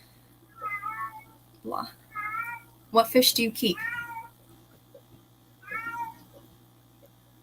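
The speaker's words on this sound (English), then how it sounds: "That's my cat." A cat meows several times in short, repeated calls, close and clear, mixed with a person speaking over a quiet background hum.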